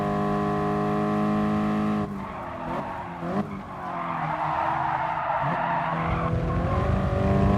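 A race car in Gran Turismo Sport roars through a difficult corner on a track, a loud steady engine tone that drops as it brakes, with tires squealing and skidding through the turn before the engine revs back up.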